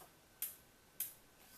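Two sharp, quiet clicks about half a second apart as a Tokyo Marui VSR10 airsoft rifle hop-up unit snaps into place, alone in a near-silent room.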